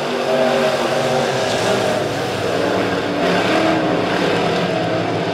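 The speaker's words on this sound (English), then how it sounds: "Donaldson out in front, 2 cars right up his tailpipe. Off turns 3 and 4, Donaldson slips a little bit" Midwest modified race cars roar around Springfield Raceway in a heat race, a loud, continuous engine drone that rises and falls as the pack accelerates through the turns.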